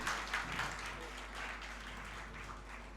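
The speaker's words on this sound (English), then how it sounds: "Can that be accompanied with a round of applause, please?" An audience gives a round of applause at an International Women's Day 2023 event: a steady, fairly soft wash of clapping that lasts the whole stretch, with no voice standing out above it.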